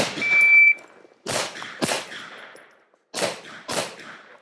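Pistol shots at an IDPA match ring out in two pairs of sharp, loud cracks, each followed by a short decay, with quiet gaps between the pairs and no talking over them.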